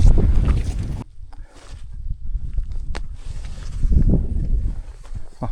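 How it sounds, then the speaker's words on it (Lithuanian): Strong headwind on a mountain hike along the Kungsleden trail, buffeting the microphone in heavy roaring gusts that ease and swell again, with faint crunching footsteps beneath. "Vėjas iš priešos."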